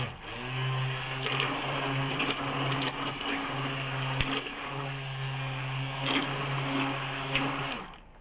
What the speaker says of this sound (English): You want to do it in short bursts so you don't burn up your blender.